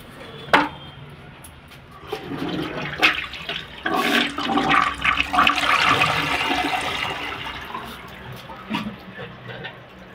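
Western commode toilet flushed with four or five torn cloth pieces inside, pushed through by an air lock: a sharp click, then a loud rushing gush of water that swirls and drains away.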